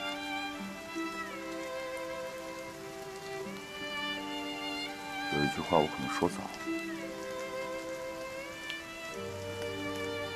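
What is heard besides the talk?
heavy rain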